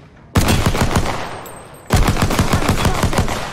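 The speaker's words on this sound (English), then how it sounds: "Taking fire." Video game gunfire in the WIN4 arena: two sharp bursts of rapid automatic shots, each a dense rattling volley, loud and close with a brief pause between them.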